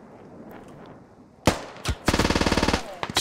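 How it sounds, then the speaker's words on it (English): MG3 machine gun fire in a squad-based military shooter game: a couple of sharp single shots, then a loud, rapid sustained burst of evenly spaced rounds, followed by a few scattered shots. "Stevo returns fire with the MG3 and deletes Cloud"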